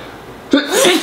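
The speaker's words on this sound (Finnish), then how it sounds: "Aivastus." A single sharp human sneeze bursts out halfway through, close and loud, following a quiet indoor pause.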